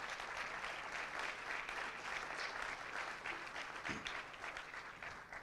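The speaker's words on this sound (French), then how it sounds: "Je pense qu'on peut les applaudir bien" Audience at an agricultural conference day applauds steadily, dense even clapping from a sizeable crowd without a break, at a moderate distance.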